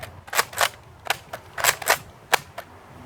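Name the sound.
Nerf Vortex FuseFire blaster firing LighTake discs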